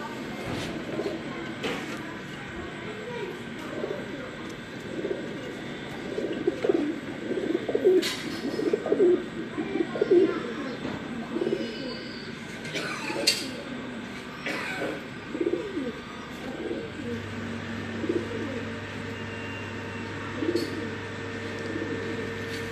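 Soft, repeated pigeon coos roll on in a steady rhythm, several male pigeons overlapping at moderate distance, with faint background noise and occasional clicks.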